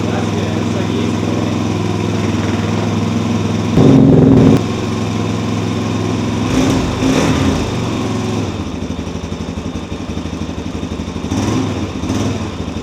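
A Suzuki DRZ400SM supermoto fitted with an MRD SSW exhaust runs nearby, a steady single-cylinder drone with a few brief blips of revving, loud and continuous throughout.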